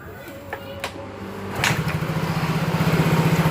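Yamaha XRD motorcycle engine with a modified cylinder head cranking and starting after a few mechanical clicks, then idling close by in a steady, loud pulsing putter that gradually strengthens.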